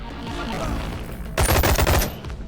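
A laser two-handed ranged weapon in a video game fires a rapid burst of loud, crackling shots at close range, following a stretch of quieter ambient game sound.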